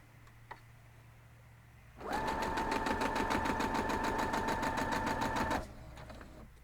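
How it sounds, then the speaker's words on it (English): A sewing machine runs in one continuous burst of about three and a half seconds, stitching a straight quarter-inch seam through star quilt block pieces, with a rapid, even needle chatter and a steady motor hum, close and alone. "I'm going to start down here and sew straight down through, 1/4 inch"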